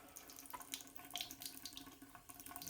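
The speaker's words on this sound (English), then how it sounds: "I'm going to go ahead and run a little bit of water on what we just painted." Tap water runs steadily into a sink while freshly painted silver chest armor is rinsed, a close, continuous splashing hiss with small fluctuations and no voices.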